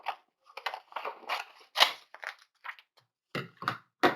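Small scissors snipping a figure out of a paper picture for a collage, with short irregular crisp cuts and paper rustles, close and quiet, separated by brief pauses.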